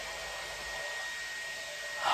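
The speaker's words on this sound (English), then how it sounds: "She's just put the hairdryer on" A steady, broadband whir of a hair dryer runs throughout, even and fairly loud, swelling slightly louder near the end.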